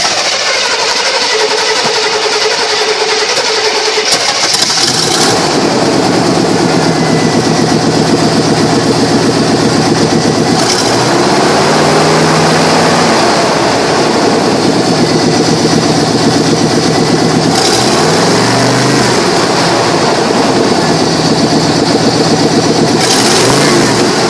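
A 1991 Chevy Silverado 1500 with 206,333 miles starts up, settles into a loud close idle, and is revved several times in rising and falling sweeps, without talk.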